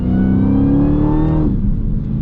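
A Dodge Challenger Hellcat Redeye engine revs hard, its pitch climbing and then dropping sharply as it downshifts aggressively, loud and close with no talking.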